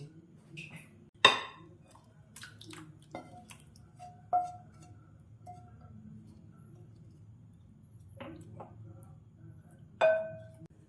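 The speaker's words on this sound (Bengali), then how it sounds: "এবার এটা প্লেটে পরিবেশন করে দিচ্ছি" Tangy, spicy-sweet paneer is served onto a plate with a few sharp clinks spread across the moment, over a quiet low hum and no talking.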